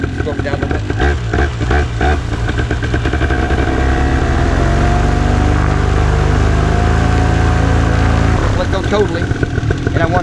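A paramotor engine revs up and down, a loud, close buzzing drone that climbs in pitch, holds steady and then drops back toward idle, with people talking over it.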